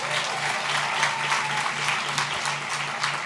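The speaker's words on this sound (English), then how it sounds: "let's give a huge round of applause for all of our recipients of the awards" Audience at a Brooklyn School for Math and Research 2022 graduation ceremony applauds award recipients, a continuous wash of clapping from a large crowd with a low steady hum beneath.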